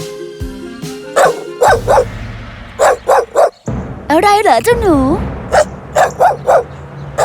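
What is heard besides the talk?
dog barking at a bush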